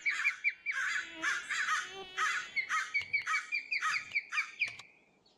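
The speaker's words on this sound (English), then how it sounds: "Those birds are loud." Birds in a video game call loudly in a rapid series of harsh, chirping squawks, close and repeated about a dozen times over five seconds before fading.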